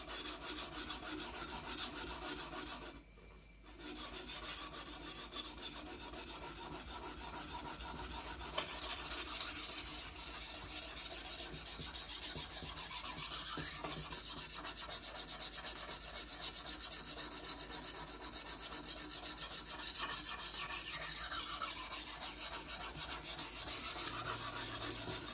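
A knife scraping over a coarse sharpening stone in repeated rhythmic rasping strokes, close and steady, with a short pause early on before the gritty grinding carries on without break.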